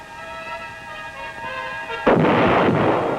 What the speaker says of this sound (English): The big mobile guns continued to do their share in dispersing the enemy.